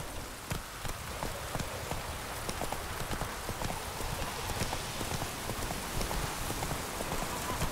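Horse hooves galloping in the video game The Witcher 3, a rapid steady clatter of hoofbeats close and continuous with a rain-like hiss behind it.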